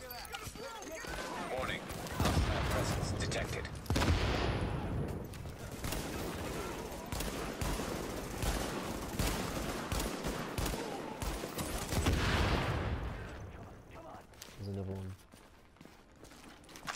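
Gunfire crackles in a Tom Clancy's The Division video game shootout, with dense, continuous bursts and rattling volleys filling the whole stretch and no pause.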